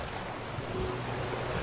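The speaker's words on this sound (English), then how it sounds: "it's getting rocky and windy out" Wind gusting over rough open sea in the survival game Raft, a steady rushing roar of waves and wind noise at fairly loud level, with no talk.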